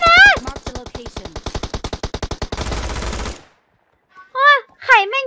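Automatic rifle fire from the mobile shooter game PUBG Mobile rattles off in a fast, even burst of close shots, followed by silence and brief excited talk.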